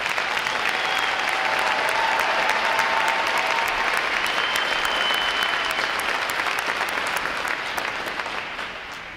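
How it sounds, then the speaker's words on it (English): Sustained applause from a large audience at a U.S. Navy Recruit Training Command graduation ceremony, a dense, steady roar of many hands clapping throughout that eases slightly toward the end, with no voices standing out. "A round of applause for graduating division."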